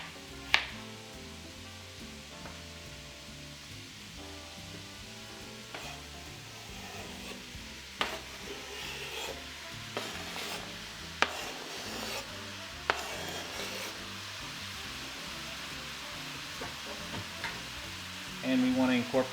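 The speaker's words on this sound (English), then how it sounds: "we want to incorporate those in with the rest of the vegetables" Fresh zucchini, summer squash and carrot chunks stirred into other vegetables frying in a pan, a steady close sizzle broken by scraping and clattering stirs, with a louder burst near the end.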